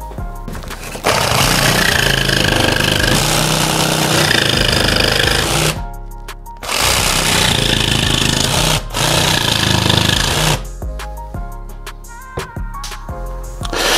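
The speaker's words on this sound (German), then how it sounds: "hier in der Mitte ein bisschen was so wegsägen" A power saw cuts a socket opening into a kitchen backsplash panel with loud, harsh rattling bursts that stop and start several times, close and continuous.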